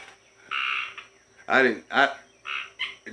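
A bird calls loudly outdoors in several harsh, squawking bursts with harmonic sweeps, repeated in close succession; no talk is heard.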